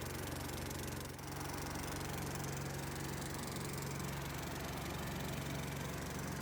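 A petrol generator engine runs at a constant, droning rumble, steady and uninterrupted throughout.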